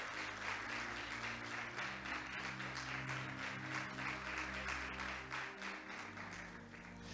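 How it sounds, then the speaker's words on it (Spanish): Church congregation applauding during a sermon, steady sustained clapping from many hands filling the room, with faint voices underneath. "¿A que no le da un aplauso al Señor por eso?"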